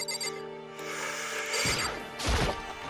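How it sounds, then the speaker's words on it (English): An electronic doorbell chime rings with sustained tones in the Danganronpa: Trigger Happy Havoc video game, followed by sharp crashing hits, with no talking. "somebody's ringing my doorbell"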